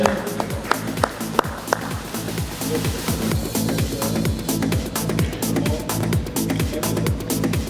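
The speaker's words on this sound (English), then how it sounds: "A big round of applause, ladies and gentlemen, to Hitesh Verma" Applause for a panelist at an insurance industry panel discussion, with a few sharp individual claps at first, then continuous clapping over a strong repeating rhythmic music bed.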